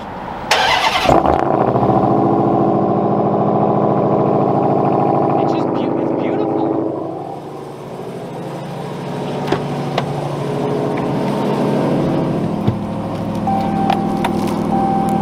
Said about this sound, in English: we of course have to get a beautiful cold startup with the AWE exhaust